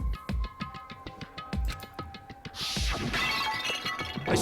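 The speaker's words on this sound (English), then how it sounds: "I grabbed the Monokuma bottle from the shelf and smashed it across her head." A glass bottle shaped like the Monokuma bear is smashed across someone's head in the Danganronpa: Trigger Happy Havoc video game, a loud bright shatter midway with scattering debris that follows, set over a rhythmic game soundtrack.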